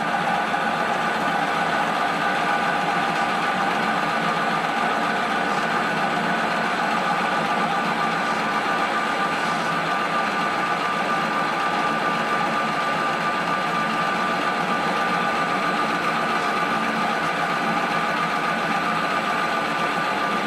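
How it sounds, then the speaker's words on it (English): A 70-year-old heavy 10 metal lathe runs steadily through a cut, giving a continuous loud mechanical drone and whine with a constant motor hum and no pauses, heard alone without talk. "The old girl runs pretty good for a 70-year-old lathe."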